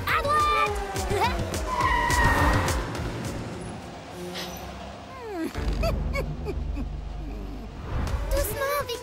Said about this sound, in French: Allez, fonce, Vicky! J'allais dire roule plus doucement